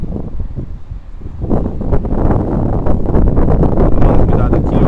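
Strong wind buffets the microphone outdoors beside a stadium while a ZLrc SG906 Pro2 drone flies, a loud, continuous rumbling roar that swells and stays heavy with gusty bursts.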